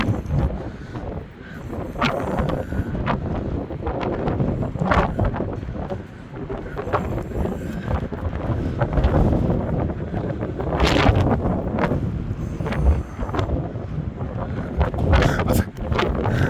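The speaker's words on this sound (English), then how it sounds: "Listen to the Wind and Noise of Blackpool." Strong wind buffets and roars steadily across the Blackpool seafront promenade, with gusty rumbling against the microphone and occasional faint distant sounds beneath.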